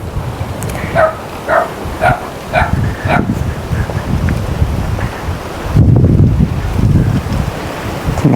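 Wind gusting across a flooded rice paddy during harvest, a steady broad rush with heavier bursts midway, while people talk over it and a dog may be heard.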